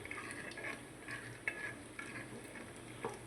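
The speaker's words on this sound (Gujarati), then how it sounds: "હવે આપણે મિક્સ કરી દઈએ બધું" Vegetables and asafoetida are stirred in a pan over a gas flame, with a soft, faint sizzle and occasional light scrapes and clinks of a spoon.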